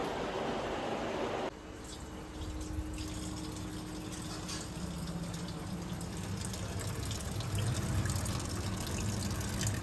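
Tap water running while mutton is washed in a home kitchen, a steady close gush with a brief heavier splash at the start, then a continuous spray of water.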